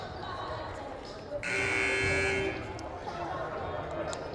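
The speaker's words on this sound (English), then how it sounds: "So first buzzer out of a Mohawk timeout." A loud electronic buzzer sounds for about a second in a school gym during a boys' varsity basketball timeout, rising over crowd murmur and squeaking sneakers, with people talking around it.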